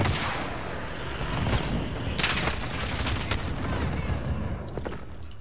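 Dense, loud gunfire during a first-person shooter video game shootout, including a shotgun, with several sharp blasts layered over continuous battle noise and no speech.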